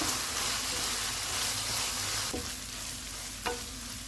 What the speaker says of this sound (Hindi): पाँच मिनट के बाद मसाले डालेंगे, इनको 3 से 4 मिनट तक भूनेंगे।